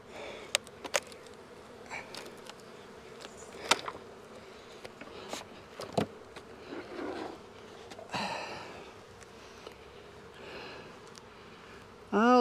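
Honey bees from hives being opened during a June honey harvest, with fume boards in use; soft, scattered buzzing at close range drifts in and out alongside handling clatter and brief bumps.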